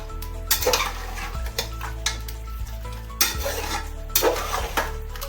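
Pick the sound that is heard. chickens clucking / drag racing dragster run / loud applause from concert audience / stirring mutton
stirring mutton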